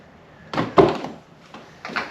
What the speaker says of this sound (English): So I'm going to open the door